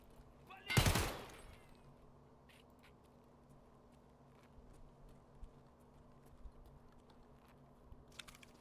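A gunshot burst kills a scav in Escape From Tarkov, one loud, sharp crack close by, followed by a quiet stretch of faint clicks and ambient hum.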